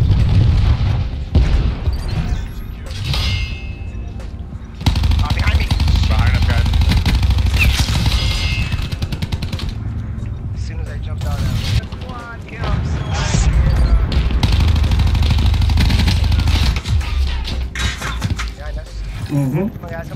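SMG fire from Call of Duty: Black Ops 4 crackles in loud rapid bursts alongside booms and game effects, and a player keeps talking over the action.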